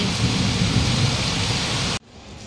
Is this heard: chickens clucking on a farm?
no